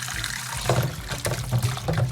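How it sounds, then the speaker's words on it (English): Tap water running over ginger in a kitchen sink, a steady close splashing flow with shifting gurgles as the root is rinsed, and no voice over it. "I'm going to turn on the water"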